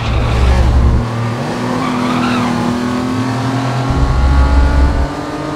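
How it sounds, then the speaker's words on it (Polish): Nissan Skyline engine in a racing video game on a very bumpy track, a loud steady drone with shifting pitch as the car accelerates and changes gear, accompanied by tyre squeal, continuous throughout with no talk. "silnik pięknie brzmi w tym Skyline"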